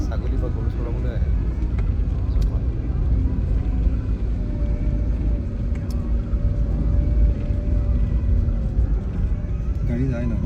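A car drives along a rural village road in Assam, its low engine rumble steady and continuous throughout, fairly close, with a faint tonal whine above the drone.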